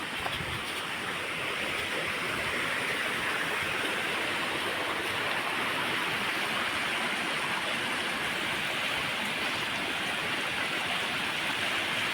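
Anguthi Sunai waterfall in Krishnagiri, a constant broadband roar of falling water, dense and steady from start to finish, close and loud with nothing else heard.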